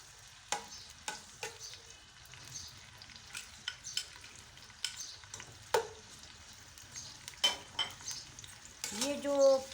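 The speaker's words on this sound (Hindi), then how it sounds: "अब इसमें मैं ये प्याज डाल दूँगी। प्याज को मैंने लाइट सा सुनहरी करना है।" Onions fry in hot oil until light golden for a pumpkin and chana dal dish, a soft steady sizzle broken by scattered clinks and scrapes of stirring, quiet and close with no talk.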